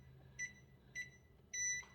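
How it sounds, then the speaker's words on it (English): Kitchen timer being set while baking stromboli: two short electronic beeps, then a longer beep, close but soft, in an otherwise quiet room. "let me put my timer on"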